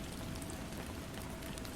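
Gentle rain falling as a steady, even hiss with soft pattering, constant and unbroken throughout, moderately quiet with no voices.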